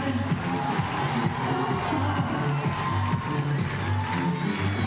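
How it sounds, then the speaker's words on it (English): A crowd at a climbing lead final in Innsbruck cheers and applauds in a steady, boisterous roar, mixed with a thumping background beat. "The crowd love that."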